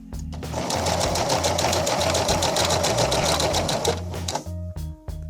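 Sewing machine stitching the hem of a layered prom dress, a steady rapid mechanical whir running continuously for several seconds, then slowing into a few short bursts as it stops, close and alone.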